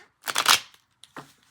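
Tarot cards shuffled by hand: a dense riffling burst of papery flutter lasting about half a second, followed by two faint soft taps as the deck settles, close and fairly quiet.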